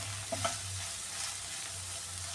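Green beans for payar mezhukkupuratti fry in a pan over a medium flame with a steady, soft sizzle. A couple of light utensil taps come early, and a low hum runs underneath.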